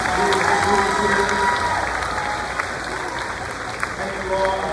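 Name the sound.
audience applause for students at awards ceremony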